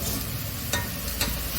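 Spice tempering sizzles in a pan in a home kitchen, a steady close hiss with two soft stirring scrapes and no talking.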